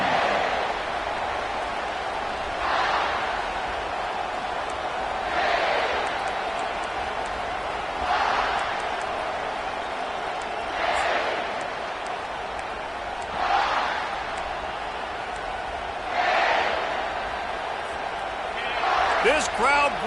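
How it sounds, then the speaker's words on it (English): Steady roar of a college football stadium crowd at a USC versus Texas Tech game, a dense continuous wash of cheering with periodic louder surges, under a play-by-play commentator talking throughout. "This crowd bringing the energy and noise early."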